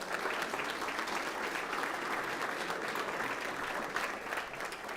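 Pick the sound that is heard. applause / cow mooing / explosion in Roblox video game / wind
applause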